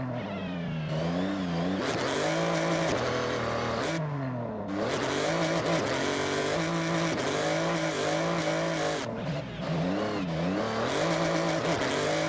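A car is driven hard in the racing game Forza Horizon 6, its engine revving loud and continuous through repeated gear shifts, with brief drops as it slows before accelerating again.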